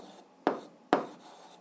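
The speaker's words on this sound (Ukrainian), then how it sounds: "зараз записуємо відповідь, пишемо відповідь" Chalk or marker writing an algebra answer on a classroom board: two quick, scratchy strokes spaced about half a second apart, fairly faint and close, with no talking.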